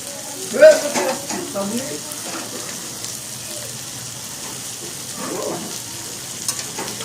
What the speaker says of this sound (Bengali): আর এখানে চিংড়ি ভাজা হচ্ছে